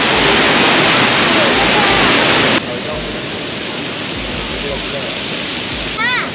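Water gushes loudly and continuously at the Krya springs in Livadeia, Greece, a dense roar that drops to a lower level partway through, with a voice briefly heard at the end.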